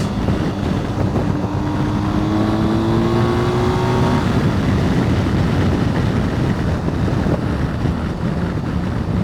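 BMW R1250 GSA adventure motorcycle accelerating through first, second and third gear, engine pitch rising in quick steps then settling into steady wind-buffeted roar; close and loud, no talking.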